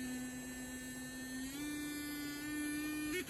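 A Bymore sonic electric toothbrush for adults runs on its own with a steady high-pitched buzz, its tone shifting slightly partway through before a brief change at the end.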